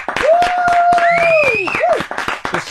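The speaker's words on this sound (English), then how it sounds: "She gets the slow clap." An audience gives a slow clap during a comedy talk show: a steady run of hand claps sounds under overlapping voices and a drawn-out whistle-like vocal tone.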